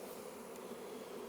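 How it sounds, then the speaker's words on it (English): Honey bees buzz in a steady, dense drone as frames are shaken into a small tote on a summer hive, a continuous close hum with no breaks. "shake these bees into this little tote right here, into this little container"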